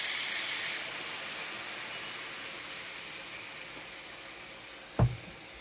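Red wine poured into a hot pan with lamb chops lets out a loud burst of hissing steam, then a low fading sizzle and a single sharp clank near the end.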